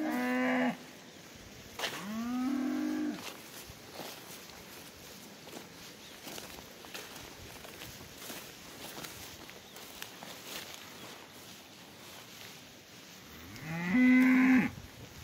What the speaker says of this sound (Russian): Это вот коровы.